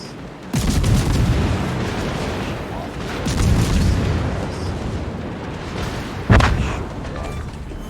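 Naval guns fire in World of Warships, heavy booming salvos with a sharp blast near the start and another near the end over a continuous rumbling battle bed.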